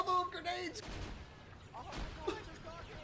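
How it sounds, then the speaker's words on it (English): A salvo of grenades goes off in Arma 3, two or three dull, muffled booms spread over a few seconds, heard beneath excited voices talking over the action. "God, it's a salvo of grenades!"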